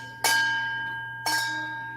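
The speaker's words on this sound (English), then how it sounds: "Reminds me of the fire bell." A bell that sounds like a fire bell rings twice, about a second apart. Each strike is a sharp, bright clang with a sustained ringing tone that decays slowly.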